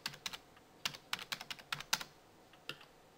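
Clicky keystrokes on a computer keyboard entering an IP address, a dozen or so quick taps in uneven bursts, close and fairly quiet with no voices.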